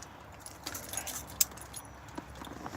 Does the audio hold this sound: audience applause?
no